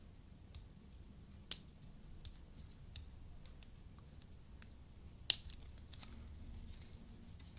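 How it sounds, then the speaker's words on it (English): Scissors snip through the cable of a wired Xbox controller, giving a few sharp, isolated clicks against a quiet background, with the loudest cut coming near the end. "Same thing, snip it down the middle."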